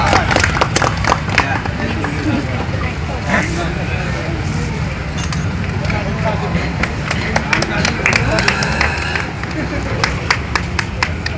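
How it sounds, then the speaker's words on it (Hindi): Crowd clapping at a street election campaign rally for an independent ward candidate, loud, dense, irregular hand claps mixed with chatter and shouting voices from people nearby. "तालियां बजाओ जोर की जरा"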